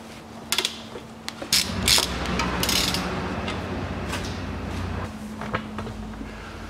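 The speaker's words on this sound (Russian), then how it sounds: "Откручиваем болт с шаровой опоры." A wrench turns the 14 mm ball joint bolt on a 2007 Daewoo Matiz 0.8 automatic, with a few metallic clicks, then a steady grinding, ratcheting rasp held for several seconds, close and fairly loud.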